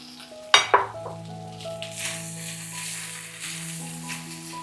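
A red chili drops into a hot pan for a Mongolian beef stir fry, with a sharp clatter and clink at the start followed by a steady soft sizzle of frying.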